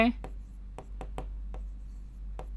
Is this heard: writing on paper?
yes